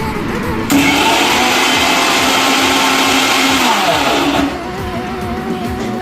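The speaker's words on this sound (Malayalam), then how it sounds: "അപ്പോൾ നമുക്കിത് മിക്സിയിൽ ഇട്ടിട്ട് ഒന്ന് അടിച്ചെടുക്കാം" A kitchen mixer grinder whirs loudly as it blends green chillies, ginger and garlic with water, a steady motor roar that starts sharply, holds for several seconds, then drops to a lower hum.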